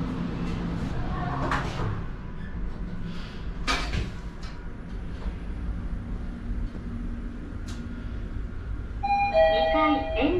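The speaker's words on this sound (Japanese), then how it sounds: "ドアが閉まります。" Door closing chime of a Mitsubishi elevator at Wakayamashi Station, heard as bright tonal ding notes near the end over a steady hum of station and machinery noise, with a recorded announcement voice in the car.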